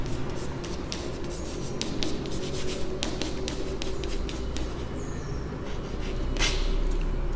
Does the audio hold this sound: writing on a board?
yes